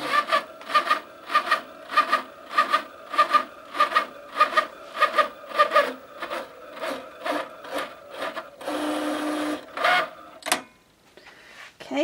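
Cricut cutting machine slicing sparkly paper dividers for a Filofax at maximum speed and depth, a rhythmic series of about fifteen short whirring, scraping passes, close and alone, ending with a longer grinding sweep and a few clicks.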